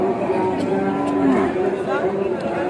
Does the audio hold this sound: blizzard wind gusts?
no